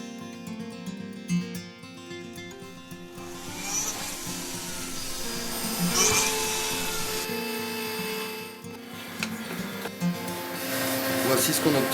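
A jewelry engraving machine works a gold or silver gourmette bracelet, giving a steady scraping, whirring drone with tonal background sound throughout and slight swells midway.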